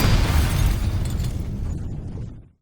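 A Minecraft creeper blows up in a loud, close explosion, a single burst with a rough rumbling body that holds for about two seconds and then cuts off sharply.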